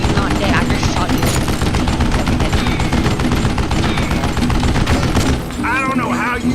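Gunshots in Red Dead Redemption: rapid, dense gunfire rattles loudly and continuously for about five seconds, then briefly drops off as a voice speaks near the end.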